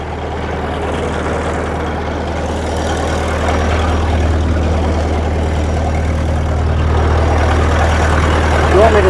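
A vehicle's engine idles with a deep steady rumble up close, then grows a little louder as it pulls away for a short drive, while people chat over it.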